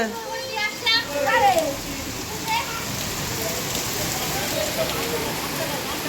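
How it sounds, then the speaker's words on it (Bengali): Heavy rain pours steadily as a dense, even hiss close by, with children's voices and talk rising over it early on before the downpour continues alone. "ভীষণ জোর দিয়েছে না বৃষ্টি"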